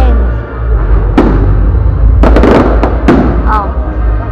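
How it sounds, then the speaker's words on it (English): Fireworks burst at a Bastille Day display, loud and continuous with a constant rumbling roar, several sharp cracks and pops, and a whistling rise near the end. "So we just went to a fireworks show, and this is what it looked like."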